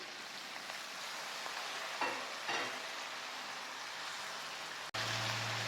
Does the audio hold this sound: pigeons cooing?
no